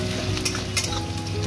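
Chopped onion fries in a pan, a close, steady sizzle with light crackles and occasional stirring scrapes that runs unbroken throughout, no voices.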